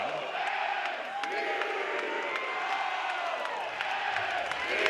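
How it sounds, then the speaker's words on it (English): Overflow crowd at a college baseball game in Corvallis roaring with full throats, a thick sustained cheer with whoops and scattered claps, loud and unbroken throughout. "They are full throats in this overflow crowd in Corvallis"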